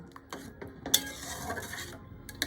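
A metal spoon stirs chicken vegetable soup with butter in a pot, sparse scrapes and light clinks against the side, with a sharp knock near the middle and another near the end, close and fairly quiet.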